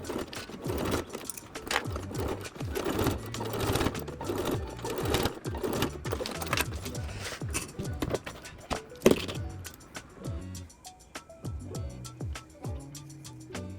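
Sewing machine stitching a seam on bag pieces, brown and black material, a fast, steady mechanical rattle close up that runs for most of the clip, then slows into slower clicks and stops.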